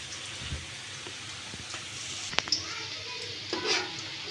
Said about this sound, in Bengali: এগুলো একটু মিডিয়াম জালে আস্তে করে ভাজতে হবে